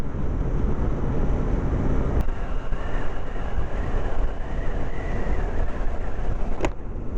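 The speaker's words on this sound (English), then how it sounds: "slip-on exhaust that I can just shove under my seat that looks a little bit goofy but sounds nice" A Yamaha FZ6 motorcycle with a slip-on exhaust is ridden on a commute. Steady engine drone and road and wind rush stay loud and constant throughout, with a couple of brief sharp clicks and no speech.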